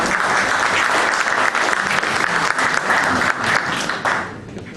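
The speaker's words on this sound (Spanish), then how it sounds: "La recibimos con un fuerte aplauso." An audience at a tribute ceremony for Dr. Pedro Saldaña Patiño breaks into strong, dense applause that holds steady for several seconds before starting to thin and fade near the end.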